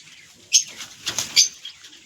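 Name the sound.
female pigeon released, wings flapping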